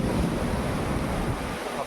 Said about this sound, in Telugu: నీళ్ళు పోతూ ఉన్నాయి పారుతూ ఉన్నాయి